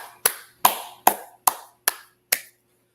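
Six sharp, separate claps ring out at a slow, even pace, crisp and close in a quiet room, each dying away quickly with no chatter around them.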